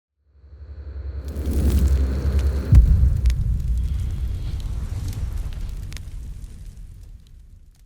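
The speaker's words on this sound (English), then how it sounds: "The world's largest firework is presented by Wayne's World Fireworks." The world's largest firework going off: a deep, rumbling boom that swells, breaks into a sharp crack, then rolls on and slowly fades over several seconds, heard from a distance with no talk.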